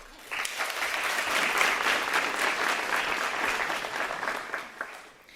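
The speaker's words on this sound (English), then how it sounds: "Maybe give a round of applause to the Urban Alliance staff" Audience applause at a year-end staff celebration for the Urban Alliance team, a steady, dense wash of many hands clapping that rises quickly, holds strong for several seconds, then tapers off near the end.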